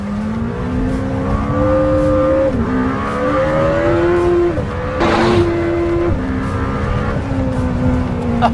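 A Lamborghini Temerario's high-revving hybrid engine howls and shifts through repeated pitch climbs and drops while drifting fully sideways, tires squealing underneath, loud and close from onboard.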